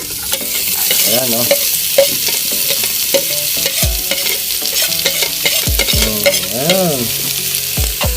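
Onions frying loudly in a pan and being stirred with a spatula, a dense close sizzle with repeated scraping strokes while a person speaks briefly in the background.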